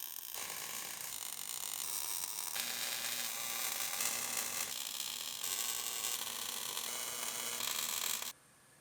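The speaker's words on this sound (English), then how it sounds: "And now we can weld it up." Welding on a car body panel during a Ford Focus rebuild, a steady loud hissing crackle with a low electrical hum, running continuously in segments before cutting off abruptly near the end.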